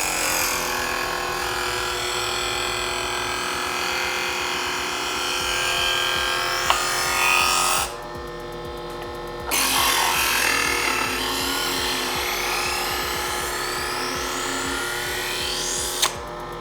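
A VEVOR electric knife sharpener polishing a knife blade, a steady buzzing motor hum with grinding contact, broken by a short drop in level midway and a couple of brief sharp clicks, with no talking.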